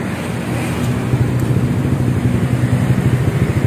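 A Yamaha Aerox scooter fitted with a rebored ROB1 exhaust idles close by, a steady low, heavy bass rumble with an even throb and no revving.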